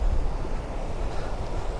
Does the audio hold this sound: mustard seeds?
no